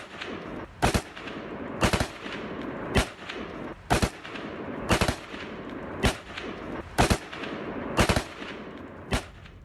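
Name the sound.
gunfire during fighting in Panjshir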